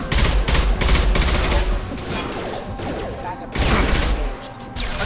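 Rapid bursts of automatic gunfire and heavy impacts crack through a Mass Effect Legendary Edition firefight, loud and close, with short pauses between volleys and voices shouting underneath.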